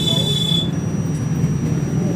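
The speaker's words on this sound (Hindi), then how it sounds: "अब देखो अगर ये सही होगा तो बीप मारेगा।" A multimeter on continuity test of an SMD coil gives a short, steady, high-pitched beep that stops within a second, leaving a low background hum.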